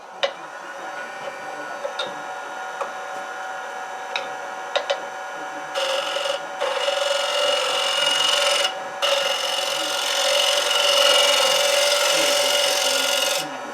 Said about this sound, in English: Well, I'll just clean it up with this scraper.